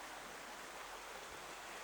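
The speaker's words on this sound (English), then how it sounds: "hear the waves rolling in" Waves roll in as a steady, faint, even wash of broadband surf noise with no distinct breaks or other sounds.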